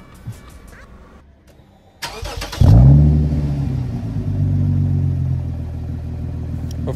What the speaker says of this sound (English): I gotta give you a couple of revs so you guys can actually hear it.